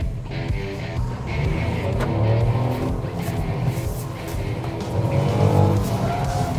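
A race car corners on a track, its engine roaring while the tires squeal and skid in repeated bursts, loud and continuous throughout without talk.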